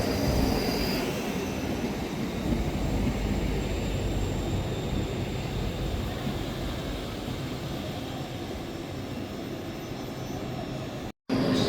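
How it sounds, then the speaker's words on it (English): A ScotRail class 334 electric unit pulls away from Edinburgh Gateway with a steady, loud rolling hum and faint wheel squeal over continuous motor whine, heard up close with no talk. "Departing out now is the 1513 Scotrail service from Helensburgh Central to Edinburgh Waverley."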